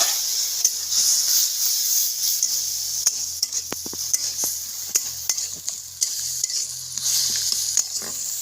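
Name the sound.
spice paste stir-frying for shrimp bhuna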